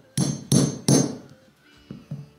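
A hammer taps a marked spot on an old wooden coffee table before drilling, three sharp close knocks followed by two softer lighter taps.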